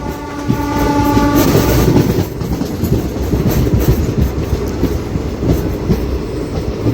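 A DEMU train at Eddula Doddi railway station blasts a loud sustained horn, then rolls past with a heavy, steady rumble and rattle of wheels on track.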